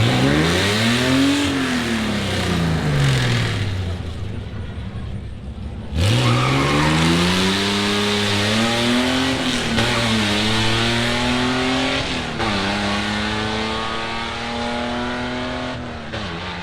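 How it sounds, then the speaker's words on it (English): Old-school quarter-mile drag racing cars at a Tri-Five Nationals car show roar loudly as they launch and accelerate, engines climbing through the gears with tire squeal, one run following another. "So we are quarter-mile racing."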